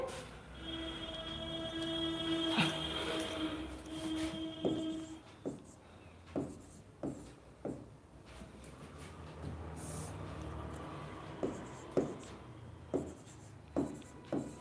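Chalk or marker strokes on a board during a Sanskrit lesson, heard as a series of short, close scratches and taps in an uneven rhythm. Early on, a steady tone hums under them, and no voice speaks.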